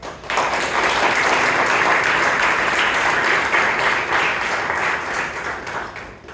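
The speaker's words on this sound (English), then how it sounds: "I request everybody to give a bigger round of applause." An audience at a Toastmasters club meeting in Bangalore breaks into sustained, dense applause that starts abruptly, holds strong for several seconds and tapers off near the end.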